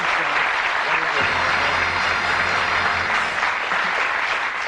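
A studio audience at a 1982 Bullseye darts game show breaks into loud, sustained applause that fills the room, with a few indistinct voices mixed in.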